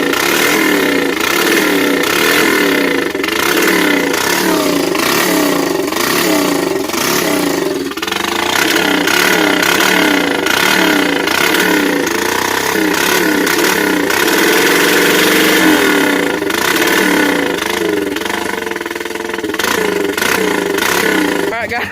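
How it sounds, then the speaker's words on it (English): A Honda 300EX ATV with its FMF pipe removed and running fully straight piped, its engine chugging loudly and close by, with uneven pulsing idle and occasional small revs throughout. "Alright, so we're going to give her a crank."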